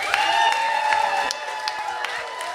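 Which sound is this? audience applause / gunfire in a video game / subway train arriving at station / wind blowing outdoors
audience applause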